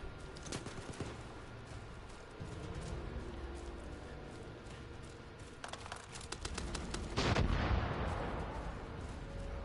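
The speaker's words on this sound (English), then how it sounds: "Someone's firing their mortar in the ground." Mortar rounds in Far Cry 5 thud and crack in scattered sharp reports, some distant and one heavier close blast near the end, over a busy outdoor game ambience.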